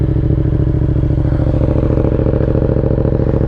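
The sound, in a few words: 2019 Yamaha MT07 motorcycle riding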